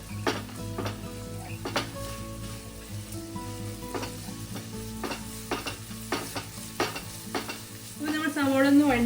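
Onions with curry leaves and salt sautéing in a pan: a steady close sizzle punctuated by sharp clacks of a utensil against the pan, with a brief voice-like sound at the very end.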